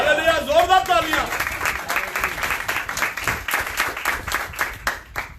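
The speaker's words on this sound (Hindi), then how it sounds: "जोरदार तालियां" Church congregation at a sermon bursting into loud applause, dense rapid clapping from many hands that follows a brief excited shout from a voice at the start and continues steadily before easing off.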